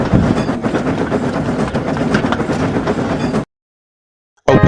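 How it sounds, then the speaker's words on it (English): Steam engine Duck shunting trucks at Wellsworth, a loud continuous rumble and rhythmic clatter of rolling wagons, abruptly cut to silence before the noise briefly returns. "A week later, Duck was shunting some trucks at Wellsworth."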